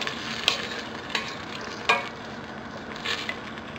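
A spoon stirs simmering chicken feet adobo liquid with vinegar in a pot, giving a few soft scrapes and taps over a steady bubbling sizzle, with no talking.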